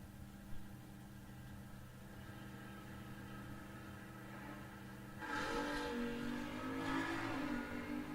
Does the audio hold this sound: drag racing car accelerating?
yes